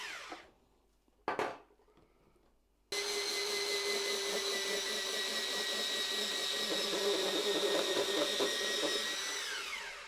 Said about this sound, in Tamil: இப்போ நம்ம 6 கேரட்டையும் துருவி முடிச்சாச்சு